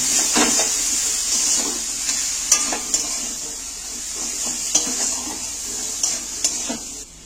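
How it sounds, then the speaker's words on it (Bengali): Boiled potato being stirred into semolina in a pan on the stove, with repeated scraping strokes and soft clinks over a steady background sizzle, close and moderately loud, with no voices. "এইবার আলুটা দিয়ে ভালো করে নাড়াচাড়া করে"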